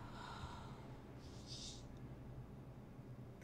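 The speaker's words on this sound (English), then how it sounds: "What's he gasping for?" A character in the horror game Silver Chains lets out a short, breathy gasp, faint and close, over a low steady hum with no talking.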